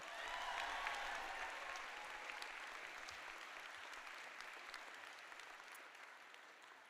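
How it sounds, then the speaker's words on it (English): Sustained audience applause at a law school commencement ceremony, dense and steady, fading slightly over about seven seconds, heard alone with no talking. "One more round of applause for Asia Norton."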